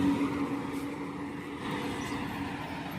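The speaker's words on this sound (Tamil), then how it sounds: "ஒட்டஞ்சத்திரம் பஸ் போகுதுங்க." A bus passing on a village road in Tamil Nadu, a steady rumbling engine roar with a low hum, continuous and fairly close, with no one talking.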